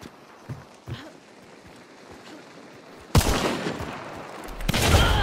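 Spark sniper rifle fire in a video game, a sudden loud crack that opens into a sustained roaring burst, followed by a second surge near the end over quieter game sounds before it.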